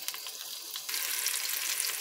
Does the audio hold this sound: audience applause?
no